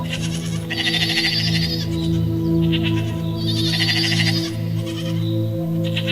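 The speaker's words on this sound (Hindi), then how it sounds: "जब बकरी की होती एक अजीब सी आवाज से बिरजू की नींद खुल" A goat bleats in two loud, wavering calls, close and clear over a steady low drone, with no talking.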